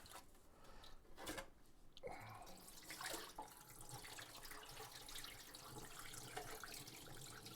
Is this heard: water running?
yes